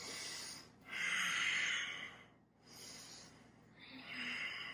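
Slow, deep yoga breaths during a held warrior pose: long airy inhales and exhales rise and fall in a steady rhythm, close and soft, with a brief pause between them.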